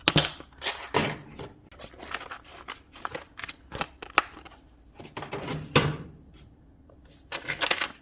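Korean 1,000 and 500 won coins being handled and sorted, sharp metallic clicks and clinks in irregular bursts, close and fairly quiet, with no talking.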